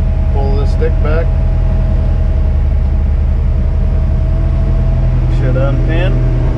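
A crane engine revs and drones steadily as the operator holds the throttle down to extend the boom while setting a 6,000 pound air conditioning unit. The loud, continuous low rumble runs throughout, with a voice talking over it near the start and end.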